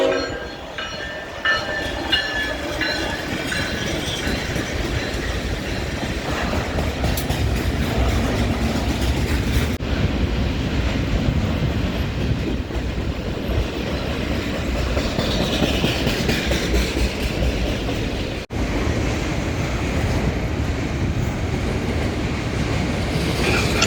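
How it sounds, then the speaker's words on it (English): BNSF eastbound intermodal freight led by an ET44C4 and a C44-9W locomotive in Rochelle, Illinois, rolling past close by with a loud, steady rumble and rhythmic wheel clatter that lasts throughout. "BNSF 3997 and ET 44C4 and BNSF 5379, a C44-9W leading an eastbound intermodal"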